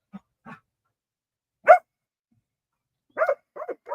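A dog barks at a bird in the sky in short, sharp, separate barks, nearby and alone in a quiet room, first a pair of soft ones, then a loud single bark, then a quick cluster.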